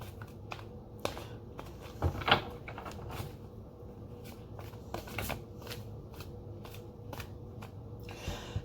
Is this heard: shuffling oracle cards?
yes